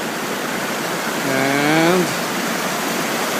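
At a mountain peak, water pours out of stone in a loud, steady, close rush, and a voice briefly speaks over the flow partway through.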